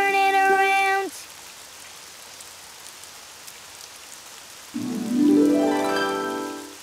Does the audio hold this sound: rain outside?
yes